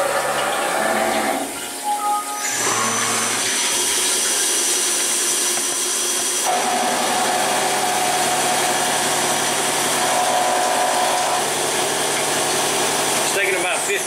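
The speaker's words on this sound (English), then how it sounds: "we're just going to face off the second side here, the bottom, and put this chamfer on there" A PM727M ATC benchtop mill faces off the bottom of a part held in soft jaws, producing a loud, continuous cutting roar with a steady high whine that shifts in tone partway through.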